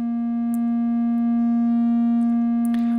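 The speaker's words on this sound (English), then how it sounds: "Right now I'm feeding a static triangle wave into the unit from the DPO." A steady static triangle wave fed through a WMD Synchrodyne synthesizer filter makes a pure sustained tone with clean stacked harmonics, constant and alone, with a couple of faint brief clicks.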